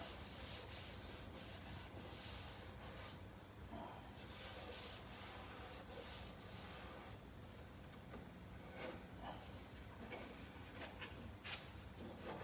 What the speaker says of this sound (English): Scrape the whole area now